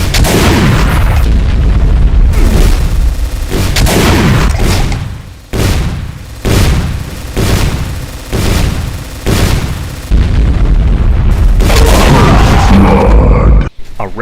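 Rapid, dense volleys of empowered Demon Tech rifle shots from the Insanity Spider boss in a Doom mod, loud and continuous, breaking into a run of repeated blasts before another sustained barrage.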